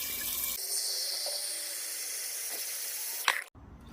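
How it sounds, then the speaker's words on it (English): Water runs from a tap into a pot in an outdoor cooking setting, a steady hissing stream with a brief spray and clunk near the end before a quieter tail. "So let's fill up this pot."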